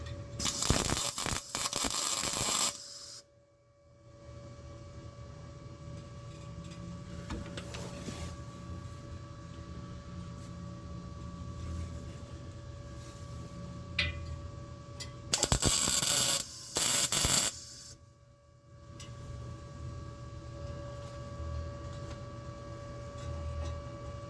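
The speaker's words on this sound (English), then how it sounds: "I'm not trying to weld it fully because I really can't see" Welding on the exhaust of a 1972 Pontiac LeMans gives two crackling, buzzing bursts a few seconds long. A low electrical hum and faint shop noise fill the quieter stretch between them.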